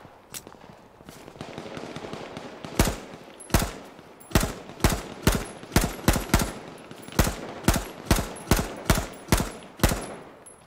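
Rapid gunfire from the survival shooter H1Z1 on PS4: a string of sharp, loud shots, sparse at first and then settling into a steady rhythm of roughly a dozen cracks, with faint background rustle between them.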